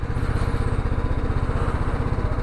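A motorcycle engine at the Iraq border runs close and steady with a rapid, even thumping rhythm, idling loudly and alone.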